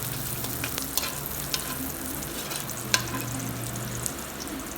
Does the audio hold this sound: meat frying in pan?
yes